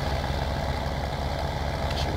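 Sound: tractor engine idling as it arrives, from the video game Farming Simulator

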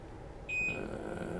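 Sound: electronic beeping

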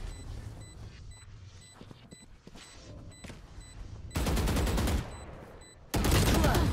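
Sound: gunfire in a shooter video game

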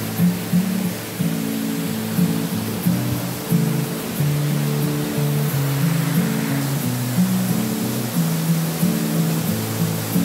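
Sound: waterfall

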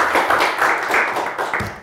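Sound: applause for game show contestant

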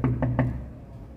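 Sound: knocking on a door

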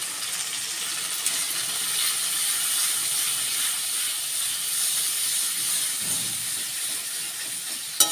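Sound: spices and water sizzling in the pan

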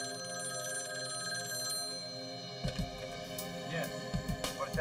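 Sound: telephone ringing

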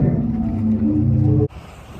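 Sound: windy beach by the sea in Zadar, Croatia

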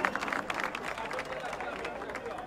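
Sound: crowd applause for striking oil workers

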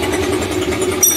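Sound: motorcycle engine timing noise

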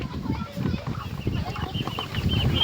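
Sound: chickens clucking on a poultry farm

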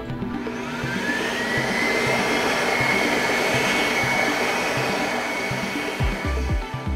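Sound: Excel XLERATOR hand dryer motor running at reduced speed

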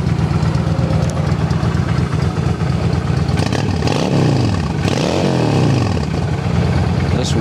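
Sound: Honda 750 motorcycle engine idling

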